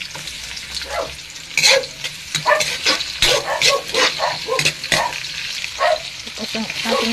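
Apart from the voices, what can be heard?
sautéing garlic and onion in a pan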